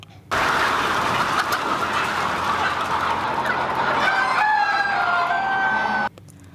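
Chickens on a Ugandan poultry farm cluck and squawk in a dense, steady chorus while a rooster crows several times, close and continuous over faint background noise.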